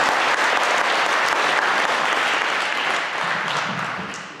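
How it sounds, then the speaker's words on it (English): Audience at a school Christmas concert applauds a senior percussion leader, a thick wash of clapping that holds loud and steady before tapering slightly at the end. "How about a round of applause for Brennan?"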